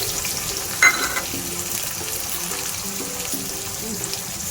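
Tomato frying in a pan for a chicken gravy, a steady low sizzle with soft stirring and a brief clink near the start, moderately close and without talk.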